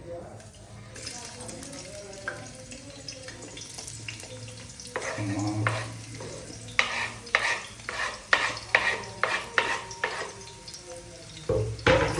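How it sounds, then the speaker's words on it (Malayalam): Chopped onions fry in hot oil with a constant sizzle, while a spatula stirs in a run of quick scraping knocks toward the end; a voice talks over the cooking. "ചൂടായ എണ്ണയ്ക്ക് നമ്മൾ ഉള്ളി അരിഞ്ഞിടുന്നു."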